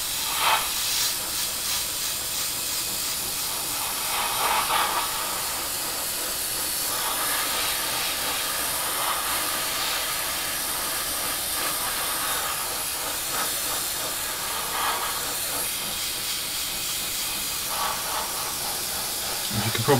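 An airbrush fed by a compressor sprays a steady, soft hiss of air while painting a 1/48 scale SU-27UB Flanker model kit. It is close and continuous, with slight fluctuations as the air pressure tails off.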